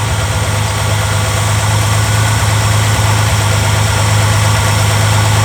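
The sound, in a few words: Reliant engine idling with metallic tapping noise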